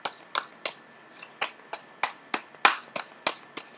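A deck of tarot cards is shuffled by hand: a quick, rhythmic run of about a dozen sharp riffles and slaps, close and crisp, with no talking.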